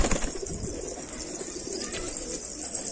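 Pigeons in a loft coo continuously at moderate volume, with a faint flutter and a steady high hiss behind, several birds overlapping close by; nobody talks.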